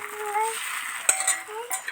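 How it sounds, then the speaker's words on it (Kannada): A lid clinks onto a cooking pan of carrots, a sharp metallic tap and a lighter clatter heard close over a gentle background sizzle and faint ringing tones. "ಈಗ ಒಂದು ಮುಚ್ಚಳನ ಮುಚ್ಚಿಬಿಟ್ಟು ಇಟ್ಕೊತೀನಿ"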